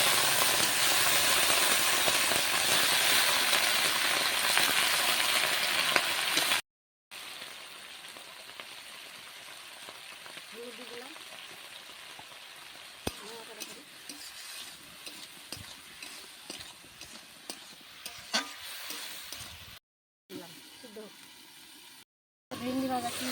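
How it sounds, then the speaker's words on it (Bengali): Okra frying in a pan gives a loud, dense sizzle for the first several seconds, then a softer crackle broken by brief gaps while someone talks over it. "ভেন্ডি ভাজা কি হচ্ছে দেখো"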